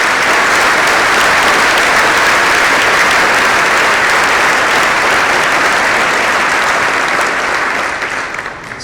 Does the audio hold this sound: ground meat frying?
no